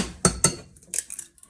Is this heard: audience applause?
no